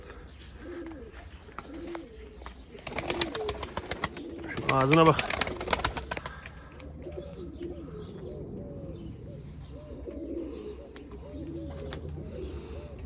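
Tumbler pigeons cooing softly in repeated low, throaty phrases, with a brief burst of fluttering and a louder call partway through, while people talk nearby.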